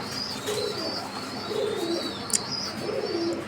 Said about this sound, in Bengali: এই মুহূর্তে আমরা দেখতে পাচ্ছি এখানে একটা সিঙ্গেল কবুতর